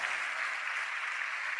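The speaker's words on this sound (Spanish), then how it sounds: "Dale un aplauso al Señor." A church congregation applauding together, a steady, dense wash of clapping that holds evenly throughout without pauses or voices.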